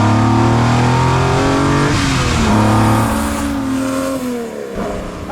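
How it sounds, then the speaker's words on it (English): A Ferrari 250 Testa Rossa racing car engine revs hard and accelerates through the gears, loud and close throughout with rising and falling pitch and no voices. "And it's Jonty Weidel in the Ferrari 250 Testa Rossa, bringing it home for that win"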